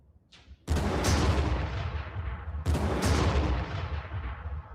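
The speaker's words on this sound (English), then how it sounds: "Oh, those super cannons are deadly." Super cannons in the video game Warhammer 40k Armageddon fire two loud, booming artillery blasts a couple of seconds apart, each followed by a long rumbling decay, with no talking.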